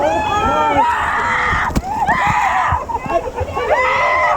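Water from a waterfall sloshing and splashing over riders on the Gully Washer river rapids ride at Six Flags during Fright Fest 2025, with close, loud, excited talk and shouting from riders throughout.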